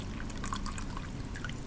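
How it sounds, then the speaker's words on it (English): Liquid is poured out of a pan while clean gold is being separated, a soft trickle with small splashy, dribbling bursts over a quiet low hum, faint and without speech. "I'll pour all of this out"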